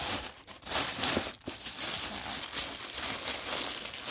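Dark green Kate Spade tissue paper being unwrapped from a bag's packaging, a steady close crinkling and rustling with a few sharper crumples, no talking.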